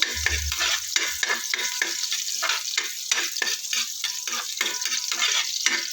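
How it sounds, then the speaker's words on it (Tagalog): Garlic and onion sautéing in a hot pan, a close crackling sizzle with rapid, rhythmic spatula strokes scraping the pan throughout, no voices. "Pagsabayin ko na ang bawang at sibuyas. Yan, igisa lang natin."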